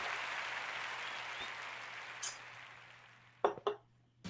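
A clap machine plays canned applause on a talk show, a soft wash of clapping that fades out and then gives way to a few sharp, isolated bursts.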